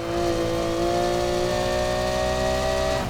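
Lamborghini V12 SV engine in the racing game Need for Speed Heat holds a steady, loud, high-pitched rev with a sustained whine, running alone without any talk.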